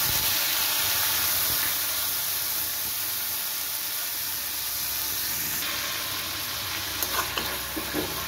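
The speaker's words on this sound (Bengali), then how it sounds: "আমি এর মধ্যে দিয়ে দিলাম আদা রসুন আর লঙ্কা বাটাটা।" Ginger, garlic and chili paste fries with whole garam masala in hot oil, giving a steady, fairly loud sizzling hiss for the whole stretch, with a few faint clinks near the end; no speech.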